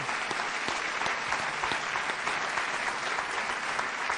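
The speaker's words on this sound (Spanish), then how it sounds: "Aplaudid, por favor" Audience applause on a Spanish comedy stage show, a dense, even patter of many hands clapping continuously at moderate distance.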